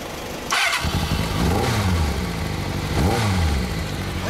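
A custom Kawasaki Z400FX motorcycle engine, built to Zephyr spec, idles with a steady, close rumble and is revved twice in short rising bursts.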